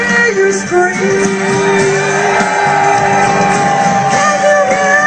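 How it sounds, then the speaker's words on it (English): Tea Party Express rally crowd in De Pere, Wisconsin, screaming and cheering loudly and continuously, with shouts and whoops overlapping and sustained voices ringing through. "Now let me hear you scream."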